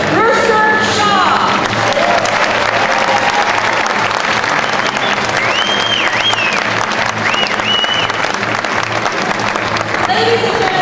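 A large audience applauds and cheers for space program workers at Kennedy Space Center, the clapping loud, dense and sustained throughout, with a few shouts and voices mixed into the crowd.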